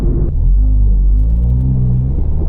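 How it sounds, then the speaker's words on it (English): Hyundai i30N engine under steady load on a race track: a loud, continuous low rumble with harmonic drone that rises in pitch as the car accelerates through a lap, close and alone. "enjoy 4 laps of me driving this i30N"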